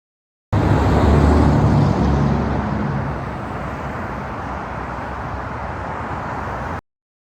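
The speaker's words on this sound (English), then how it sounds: "it's really loud at the portal of the tunnel, basically where the cars, you can see them come above ground" Loud, steady roar of car traffic at a road tunnel portal where vehicles emerge above ground, a broadband wash that swells early and then holds level throughout, with no voices.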